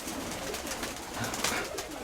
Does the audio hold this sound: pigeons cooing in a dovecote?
yes